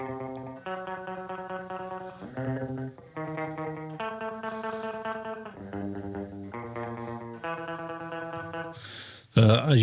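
Guitar played through a black metal plugin preset with desk distortion rings out as a series of sustained, heavily processed chords with a chorused, echoing tone, ending in a brief louder burst.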